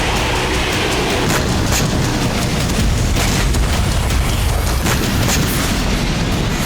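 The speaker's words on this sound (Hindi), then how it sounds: "इजरायली बम गिरने के बाद इस जगह लगातार धमाके हो रहे हैं" Hezbollah rockets and weapons exploding one after another after Israeli bombing on the outskirts of Beirut, a loud continuous rumbling roar with repeated heavy booms and crackling bursts, dense and without pause.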